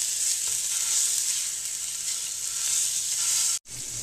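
Chorizo frying in a hot, lightly oiled pan gives a steady, bright, close sizzle that keeps going without a break, then cuts out for a moment near the end.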